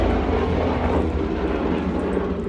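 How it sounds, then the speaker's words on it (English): A helicopter passes overhead with a steady, broad engine and rotor rumble. It stays at an even, moderate level throughout, with no voices. "this helicopter flying over."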